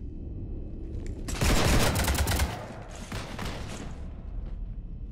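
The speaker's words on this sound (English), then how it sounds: "You want to stop shooting up my ship?" Rapid gunfire in Mass Effect 3's Citadel DLC clone boss fight, peaking in a loud, dense volley midway and then continuing as quieter rattling bursts.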